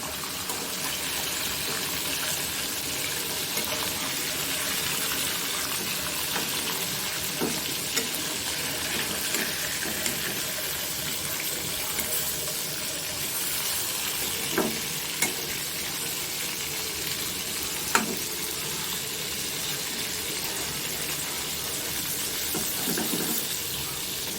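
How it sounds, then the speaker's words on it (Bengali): Fish fries in hot oil with a dense, continuous sizzling hiss throughout, loud and close, broken by a few faint clinks. "মাছগুলো একটু লাল লাল করে ভেজে নেব।"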